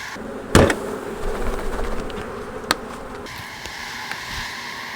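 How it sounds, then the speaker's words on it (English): Honey bees hum steadily around an open Apimaye hive box during a split, with a sharp knock or two from handling equipment nearby. "Quite a few bees on this box still."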